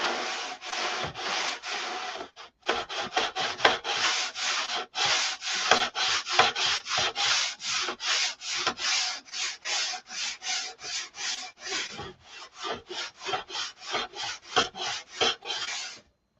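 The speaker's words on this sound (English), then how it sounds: "Should hear some grinding on this now." A sanding bar scrubs back and forth across wood in steady, rapid strokes, each rasping pass clearly separated by short gaps, loud and close with no talking.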